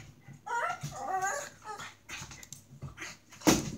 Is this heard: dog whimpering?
yes